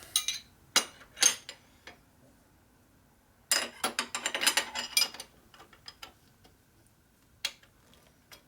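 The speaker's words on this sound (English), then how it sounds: "It's a 1/2 inch bolt so you can torque it." A ratchet tightening a half-inch bolt on a Harley Sportster 650cc single land-speed racer, with rapid clicking bursts in several close, loud runs separated by pauses and no talk.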